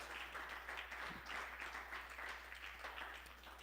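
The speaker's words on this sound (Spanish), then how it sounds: "Dele un aplauso al Señor, hermano, en esta noche." Faint applause from a church congregation during an evening service, a soft steady patter of clapping that fades slightly toward the end.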